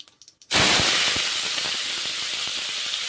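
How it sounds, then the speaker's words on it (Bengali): Cabbage dropped into hot mustard oil in a kadai with fried panch phoron, opening with a few light clinks before a loud, sudden burst of sizzling that settles into a steady close hiss with small pops. "বাঁধাকপিগুলো এখন আমি ছেড়ে দিচ্ছি এইভাবে ভেজে নেবো"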